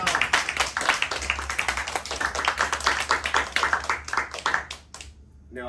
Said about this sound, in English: let's give another round of applause for Lewis.